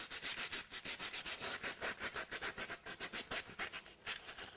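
Hand sanding of a carved 3-D teddy bear cake: a steady rhythmic rasping rub, about five strokes per second, close and fairly soft, continuing without talk.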